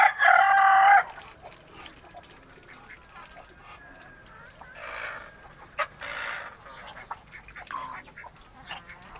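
Chickens kept on a rooftop coop, with a loud rooster crow at the start followed by scattered clucks and bird calls in a busy background.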